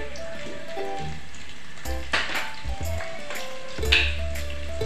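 Onions go into hot oil for egg biryani, a steady soft sizzle with scattered pops and crackles, interrupted by a few clinks of a utensil against the pan and no one speaking.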